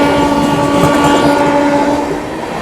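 A Tamil Nadu Express train overtakes on a parallel track beside a moving Mumbai–Haridwar AC Superfast Express, producing a loud, close, continuous rolling rumble with a sustained horn-like tone that eases off slightly toward the end.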